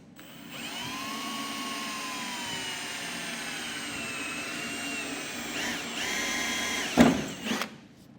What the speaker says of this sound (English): And then drill those openings out.